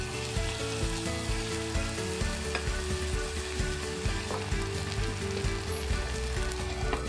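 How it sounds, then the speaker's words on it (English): Pork and vegetable filling for harumaki fries in a pan with added seasonings, giving a dense, continuous sizzle with a steady low bubbling rumble, loud and close, with no voices. "stir the combined seasonings thoroughly and add it to the pan"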